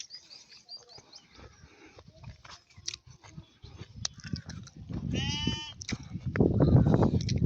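Sheep in a small quiet village let out a wavering bleat partway through. Soft chewing and shuffling come before it, and a louder rustling follows.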